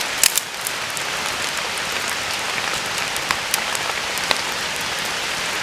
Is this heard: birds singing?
no